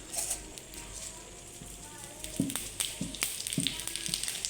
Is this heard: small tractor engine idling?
no